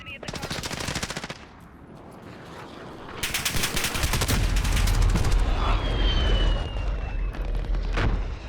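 Gunfire in a shooter video game, with a machine-gun burst, then a longer heavy barrage with booming blasts underneath, loud and sustained.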